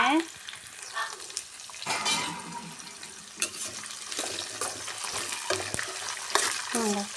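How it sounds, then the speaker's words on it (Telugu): Green chillies, onion and curry leaves sizzle in a hot pan while a spoon stirs and scrapes them in uneven bursts, with the frying hiss steady underneath and occasional clatter against the pan. "పచ్చిమిర్చి ఉల్లిగడ్డ కరివేపాకు మూడు ఒకటేసారి వేసుకుందాం వేసేసుకొని మంచిగా కలబెట్టుకోవాలి"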